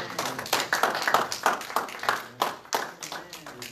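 Quick, steady hand clapping from several people in a lively rhythm at a church worship service, with voices carrying along underneath.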